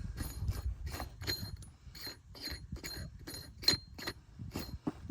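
Repeated rhythmic metallic clicking and ratcheting as a lock collar is screwed down on a coilover shock during a front coilover conversion on a 1994 Ford Ranger, close and fairly quiet, with no talk.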